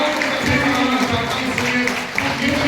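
Applause from an audience at a Hindi poetry recital, a steady wash of many hands clapping with a hum of voices and some tonal background underneath, continuous and fairly loud throughout.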